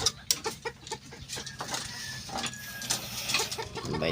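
Hens clucking in short, scattered bursts amid a busy farmyard background, with faint higher bird calls mixed in.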